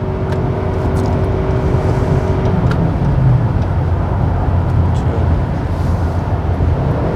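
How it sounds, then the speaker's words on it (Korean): A Toyota Camry Hybrid accelerates with a steady, loud engine drone and road and wind noise against the body, holding constant throughout with no talking. "역시 엔진 소리가 살아나고 차체에 부딪히는 바람 소리가 어느 정도 들리는데요"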